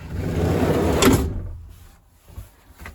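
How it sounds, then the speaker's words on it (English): The door of a step van rattles and scrapes as the van moves, a dense metallic clatter for about a second before trailing off, followed by a few fainter knocks and clunks. "Sometimes the door, like this apparatus here, like you go over bumps, it kind of rattles."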